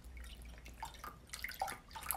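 Chicken broth is poured into an Instant Pot, giving a faint, soft trickle and a few dripping splashes in a quiet kitchen.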